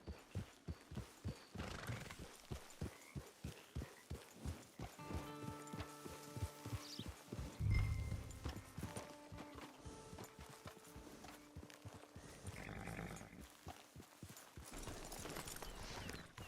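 Horse in Red Dead Redemption 2 walking with a regular clip-clop of hooves, then a loud drawn-out neigh in the middle, the hoofbeats carrying on afterward with no voices.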